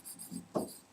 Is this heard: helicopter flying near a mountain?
no